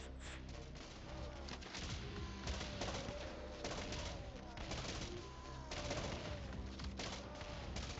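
Rapid gunfire from a firefight in the zombie survival strategy game Infection Free Zone, dense bursts of shots crackling steadily throughout, with cooing pigeon-like bird sounds mixed in.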